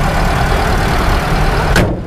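A used car's engine idling after a recent drive, a loud steady low rumble close by with no talk over it, cut off near the end by a brief click.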